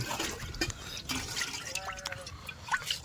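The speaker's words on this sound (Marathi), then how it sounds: "चरवीतलं पाणी देतो ओतून" Water poured out of a pail splashing and dripping close by in short uneven bursts, with a faint trickle running throughout.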